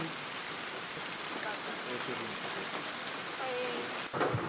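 Steady rain pours down, a dense hiss of drops striking surfaces that continues throughout, with a brief louder splash of noise near the end.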